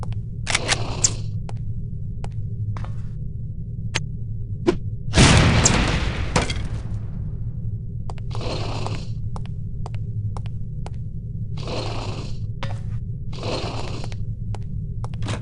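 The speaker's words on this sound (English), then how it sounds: "These relatively inconspicuous-looking lipsticks are actually powerful explosive devices that detonate on impact." Explosive lipstick grenades in No One Lives Forever detonate on impact. One loud blast with a rumbling tail stands out among several shorter bursts and sharp clicks, all over a constant low hum.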